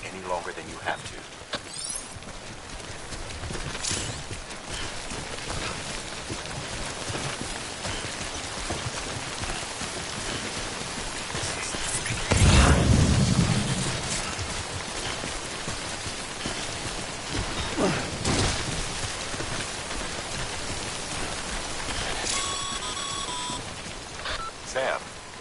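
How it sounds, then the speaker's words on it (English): Steady timefall rain from the Death Stranding video game pours across the whole scene, a dense hiss of drops hitting surfaces, with a voice speaking over it and a brief louder burst partway through. "Don't stay out in the rain any longer than you have to."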